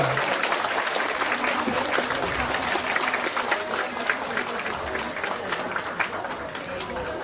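Wedding guests clap for the bride during a ceremony, a dense, steady burst of applause lasting several seconds with crowd murmur and voices mixed in.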